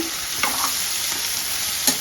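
Ridge gourd curry with freshly added ground masala sizzles steadily in a pan while being stirred, with a couple of brief scraping strokes over the constant close frying hiss.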